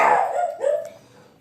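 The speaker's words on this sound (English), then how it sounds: "Sorry my dog had to bark" A single dog bark, loud and close, with a falling tone that trails off into quiet.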